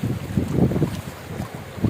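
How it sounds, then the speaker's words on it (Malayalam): Fast-flowing flood water after fresh rain in the mountains of Jebel Akhdar, Oman, rushes with a loud, continuous low roar mixed with gusty wind buffeting the microphone. "നല്ല ഒഴുക്കുള്ള വെള്ളം. സ്പീഡായി."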